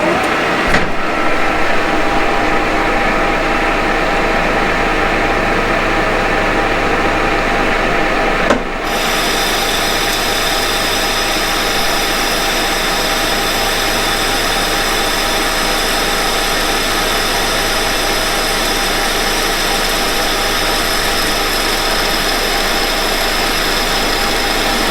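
A metal lathe bores out a metal part with a 1 mm cut, a loud steady machine whine and hum that shifts abruptly partway through, then holds constant to the end.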